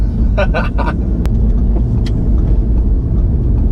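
Audi S3 2016 Quattro driving around a roundabout, a steady loud low engine and road rumble running throughout, with someone talking over it.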